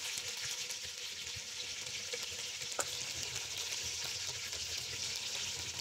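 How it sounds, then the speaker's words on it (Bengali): Roast frying in a pan, cooked by a hired cook for a wedding feast: a steady, loud, close sizzle of hot oil with light stirring, continuous and even throughout. "জাস্ট এই যে রোস্ট ভাজাভাজি চলছে"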